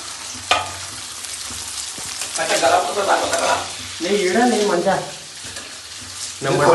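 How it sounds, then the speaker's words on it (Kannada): Cut paneer fries in a pan with a steady close sizzle and occasional stirring scrapes, while voices talk over the middle part. "ರುಚಿಗೆ ಪನ್ನೀರ್ನ ಇವಾಗ ಫ್ರೈ ಮಾಡಬೇಕು."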